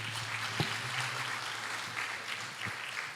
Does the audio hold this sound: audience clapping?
yes